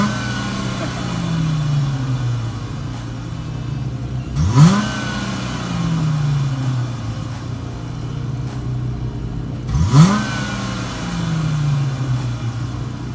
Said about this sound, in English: The stock exhaust was very quiet, but that's exactly what you want from a luxury car.